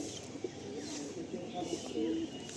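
A Madrasi pigeon held in the hand gives soft, low coos in short repeated phrases, close by over a quiet background.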